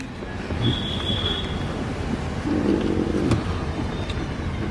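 A moving train rumbles steadily and loudly throughout, with a continuous clatter of wheels on the rails and a brief high metallic squeal early on, heard from inside the carriage.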